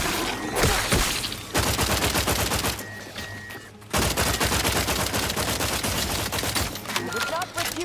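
Rapid bursts of automatic gunfire and overlapping shots fill a firefight in the video game The Outer Worlds, loud and nearly continuous with a brief lull, while game voices speak over the battle.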